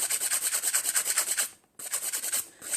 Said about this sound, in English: Keep filing.